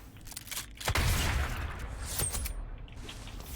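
Charged gunshots in the DmC: Devil May Cry video game, a few sharp blasts and bursts close together over a booming, noisy background with no voices.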